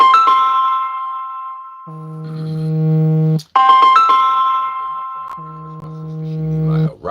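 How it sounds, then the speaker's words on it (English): A mobile phone ringing with a loud, close electronic ringtone: bright melodic tones alternating with lower sustained chords, the pattern repeating twice with no talk over it. "my phone was ringing"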